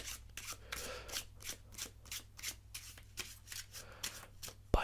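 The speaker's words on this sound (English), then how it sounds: "by doing an overhand shuffle like that" Playing cards get an overhand shuffle, quick rhythmic riffling swipes repeating about three times a second, close and crisp, with no talking.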